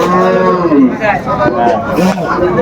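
A dairy cow moos loudly and close by at a livestock market in Raniganj, Dinajpur, with long drawn-out lowing calls, while people chatter in the background.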